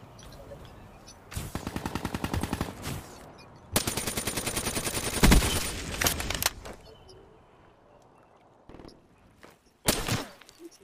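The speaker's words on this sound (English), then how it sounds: "They were shooting at me." Rapid automatic gunfire in Black Ops 3 on PS4, coming in several loud bursts separated by quieter gaps, with one short final burst near the end.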